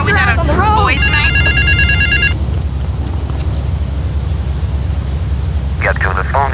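A telephone rings in the video game GTA 3 at a South Belleville Park payphone, with a short burst of electronic ringing that returns briefly later. A steady hum runs underneath, and game dialogue is heard.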